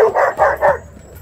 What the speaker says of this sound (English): They make sure each and every interloper gets barked at equally.